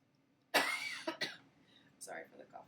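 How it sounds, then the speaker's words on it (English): Coughing up close: one harsh, rough cough followed by a second shorter one, then quiet voiced throat sounds trailing off in a calm room. "Sorry for the coughing."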